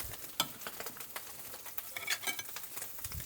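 A large egg fries in a pan with a quiet crackling sizzle and scattered pops and scraping stirs, close and uneven, without talking.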